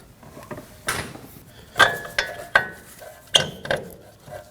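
Ratchet wrench loosening the nut on a tie rod of a 2015-2022 Chevrolet Colorado steering rack, a few sharp metallic clicks and clinks spaced irregularly, close and fairly loud with no talking.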